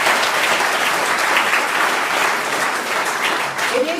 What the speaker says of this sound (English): I think you should all give yourselves a round of applause